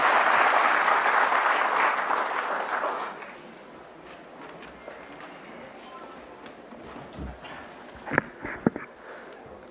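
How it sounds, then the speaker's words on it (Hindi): Audience applause welcoming a speaker at a national Aadhaar service workshop, moderate clapping for about three seconds that gives way to quiet room noise, footsteps and a few bumps. "एक बार जोरदार तालियों से उनका स्वागत करें।"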